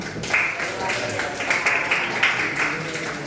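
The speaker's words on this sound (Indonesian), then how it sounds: "Beri tepuk tangan untuk Abian." Classroom applause for a student in a math lesson: a steady patter of many hands clapping at moderate volume, with a voice speaking over it.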